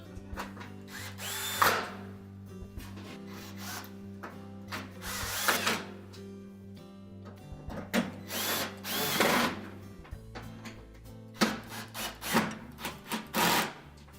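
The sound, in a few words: power drill driving retaining screws into a Whirlpool range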